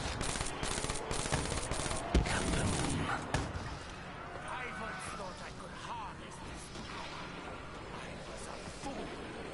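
Shotgun fire in a PS4 shooter game, rapid loud blasts clustered early then fading into steady game noise, with someone talking over the action.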